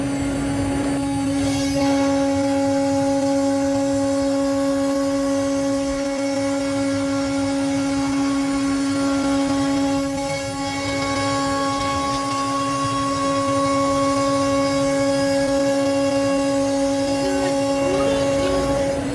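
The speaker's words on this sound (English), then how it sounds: "Now the CNC machine is making deeper cuts." CNC machine cutting deep lines into a wood design, a loud continuous whine with steady tones that holds for the whole stretch, dipping briefly midway before it resumes, with no voices.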